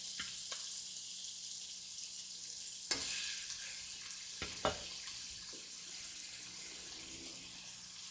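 Seasoned meat is laid flat, seasoned side down, into a hot pan, producing a faint, steady sizzle with a few soft clicks and knocks from utensils.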